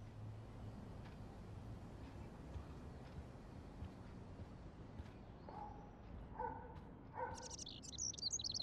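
Indoor bird in the video game Life is Strange, giving a few short, bright chirps in the latter half, fairly faint over a steady low room hum.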